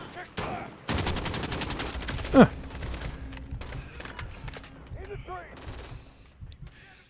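Gunfire in Call of Duty: Modern Warfare, a few sharp shots and a short burst scattered across the moment with game sounds around them.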